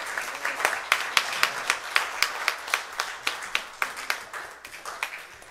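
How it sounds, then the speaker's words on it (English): A church congregation claps in praise, with sharp, evenly spaced claps in a lively rhythm over a softer bed of scattered clapping, fairly close and clear. "another hand clap of praise, amen, for Minister Boot"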